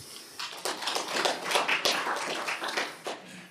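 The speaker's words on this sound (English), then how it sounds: "Can we give him a clap?" Council members at a municipal council meeting clapping together, a short round of moderate applause that swells and then tapers off in a fairly reverberant room.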